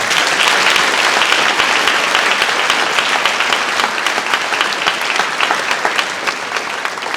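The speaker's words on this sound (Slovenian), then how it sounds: "En velik aplavz, prosim." Dense, loud applause from a crowd at a municipal New Year concert by a brass band, marking Independence and Unity Day; sustained clapping fills the hall for the whole stretch, fading slightly near the end.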